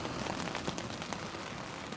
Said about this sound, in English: But I can hear like a consistent drizzle.